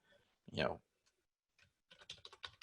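A computer keyboard being typed on: a few quiet scattered clicks, then a faster cluster of light keystrokes near the end, close and soft.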